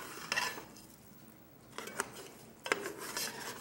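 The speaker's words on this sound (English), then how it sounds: "Stir it good. I love to stir." A spoon scrapes and clinks around a pot while seasoning is stirred in for macaroni salad or chili jambalaya, faint short bursts of metal rasping with quiet gaps between.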